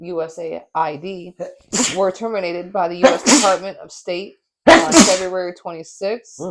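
A single sharp sneeze cuts into a news presenter's speech, loud and close, with talking continuing before and after it.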